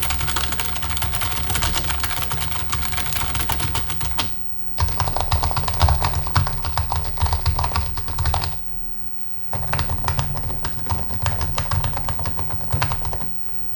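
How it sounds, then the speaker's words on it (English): Typing on a 2018 MacBook keyboard and a Razer keyboard, sounded in separate bursts: rapid, close, clattering keystrokes in three runs divided by short pauses, with no talking. "Let's take a look at the audible difference between the two keyboards right now."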